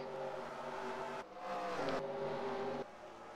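NASCAR race cars at Dover in a racing video game, their engines holding a steady harmonic roar that drops and swells as cars pass, sounding moderately close with no voices.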